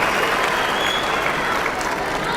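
Tennis spectators applaud, a dense, steady wash of clapping from a crowd filling the whole moment.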